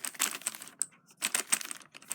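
Keys clack rapidly on a Logitech G710 mechanical keyboard with Cherry MX Blue switches, crisp clicky strokes in quick uneven bursts with a brief pause midway.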